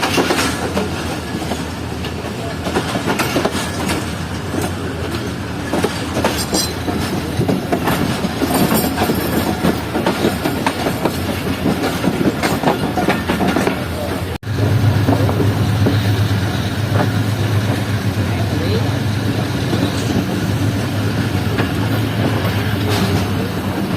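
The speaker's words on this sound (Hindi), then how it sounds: "तो उम्मीद है कि वहाँ से ट्रेन अच्छी स्पीड में गुजरेगी।" The Khyber Mail passenger train in Pakistan thunders steadily at speed, its loud wheel clatter and rushing rail noise running continuously with a brief dip midway.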